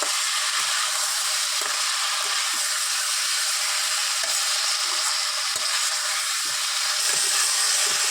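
Fish pieces with taro root frying in hot oil in a wok, giving a steady, dense sizzle throughout with a few soft low knocks from stirring.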